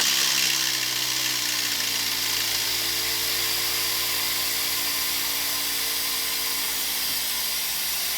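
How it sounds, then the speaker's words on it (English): An air-powered vacuum pump runs on a sealed container to degas resin, a loud continuous hissing whine that holds steady throughout with no talk. "I'm going to open the valve which will create the vacuum in this container."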